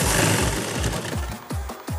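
Sewing machine stitching the back pocket of a pair of trousers in a tailoring job, running in short bursts of rapid motor hum with brief pauses between runs, close and fairly loud.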